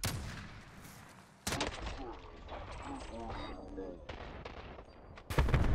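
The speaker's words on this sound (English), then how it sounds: "Sniper firing." Gunfire in a video game, including sniper rifle shots, crackles in a few sharp reports at moderate loudness over a busy background, with players talking over it.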